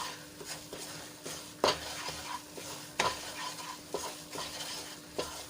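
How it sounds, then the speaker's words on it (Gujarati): Milk being stirred and reduced in a pan makes a soft bubbling sizzle under repeated scraping strokes of a spoon against the metal, an irregular rhythm of clinks, with no talking. "તો આ રીતે હલાવીને આપણે દૂધ બાળી લેવાનું છે"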